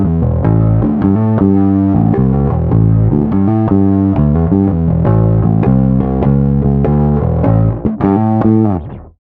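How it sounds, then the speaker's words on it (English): Bass guitar played through a bass amplifier's drive channel, giving a thick distorted tone with rhythmic picked notes and riffs, loud and upfront, ending with a held note that cuts off. "The drive is a proper distortion"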